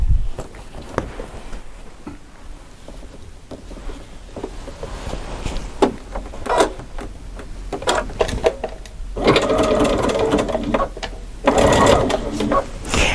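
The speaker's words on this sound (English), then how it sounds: "I'm just going to turn the corner, and start to sew." A sewing machine stitches fabric binding in stop-and-start runs, a close mechanical whir and needle tapping that picks up pace and grows louder toward the end.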